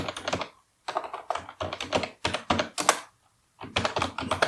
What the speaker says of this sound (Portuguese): Eu digito aqui o usuário e a senha lá do GitHub